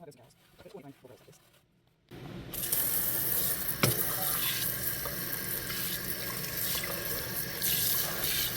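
Tap water runs steadily into a sink to soak an old cast iron skillet, a broad loud rush that starts abruptly after a quiet moment and continues, with a brief clank partway through.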